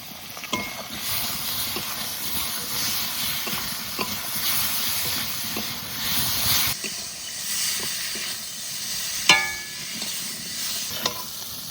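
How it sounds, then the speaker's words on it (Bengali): Potatoes fry in oil with salt, turmeric, green chili, cumin and ginger paste, giving a constant hissing sizzle with occasional utensil knocks and stirring scrapes, close by and without voices. "লবণ, হলুদ, এইবার দিয়ে দেবো কাঁচা লঙ্কা, জিরে, আদা একসঙ্গে বাটা।"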